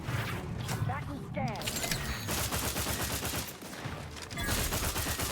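Rapid gunfire from a weapon shooting a bug-like creature in The Outer Worlds, a dense clattering fusillade that runs almost the whole time, with a voice talking over it.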